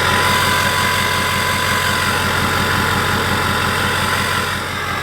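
A car engine idles close by with a steady, low rumbling throb that barely changes over several seconds.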